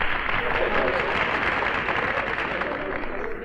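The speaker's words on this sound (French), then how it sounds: "Écoute le public qui applaudit." A theatre audience claps steadily throughout, a dense, fairly loud wash of applause that holds level and eases slightly toward the end, with no voices over it.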